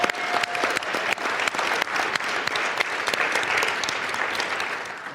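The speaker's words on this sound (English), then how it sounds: "Give yourselves a big round of applause." Applause from a sobriety meeting audience held in a church venue, a steady dense wash of many hands clapping close and loud for about five seconds without talk.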